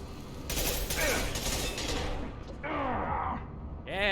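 Mass Effect 2 pistol and weapon fire during a firefight on Purgatory or Haestrom, a dense burst of shots layered with combat noise and other effects, loud and continuous for several seconds.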